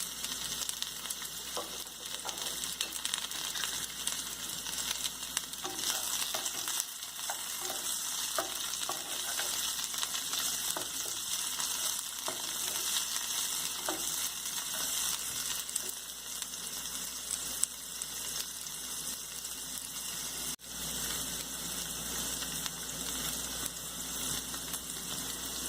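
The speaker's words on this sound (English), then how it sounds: "Add vegetables, and we have to saute these vegetables just for 2 to 3 minutes." Vegetables sauté in a pan for pasta in red sauce, giving a steady, continuous sizzle and crackle with occasional stirring scrapes, no talk over it.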